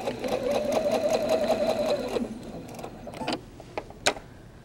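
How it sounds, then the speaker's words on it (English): A sewing machine runs steadily for about two seconds, stitching a seam onto an anchor cloth, then stops, leaving a few faint clicks and one sharp tap. "Now I'm going to sew back off onto an anchor cloth."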